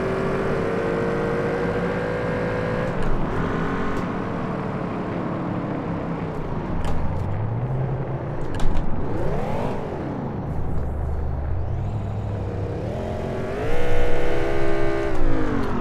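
BMW M6 E63 2010 engine in the City Car Driving video game, a loud, growling V10 revving up and down repeatedly with rising and falling pitch sweeps.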